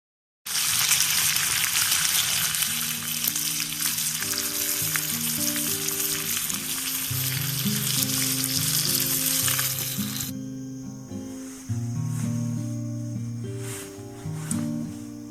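Bacon and eggs sizzle steadily on a camp stove for breakfast, a loud continuous crackle over soft melodic music that drops away sharply partway through, leaving only the music.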